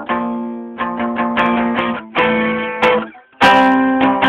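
A guitar in drop D tuning rings out a power chord on the low strings, several strums in a choppy rhythm with short gaps and sustained, loud, distorted-free tones between them, played alone.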